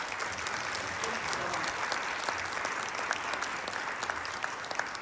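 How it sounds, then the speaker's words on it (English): An audience claps steadily and continuously at a community gathering, a dense, even round of applause with no pauses and no one speaking over it. "Let's give them a round of applause."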